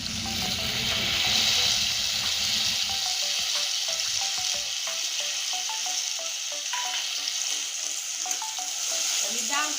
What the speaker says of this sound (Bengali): ডাল দিয়ে আমি আর একটু ভেজে নিয়েছি লাল করে